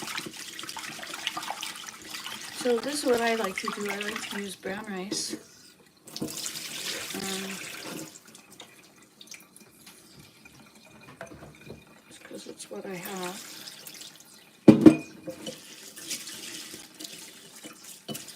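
A kitchen tap runs water into a sink, a steady hiss and splash that starts and stops several times, sitting under a voice.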